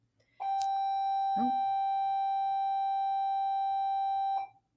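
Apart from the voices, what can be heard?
school bell ringing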